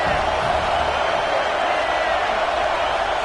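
A stadium crowd at a college football game roars steadily for the home defense during a red-zone stand, a dense, continuous wall of cheering with no breaks.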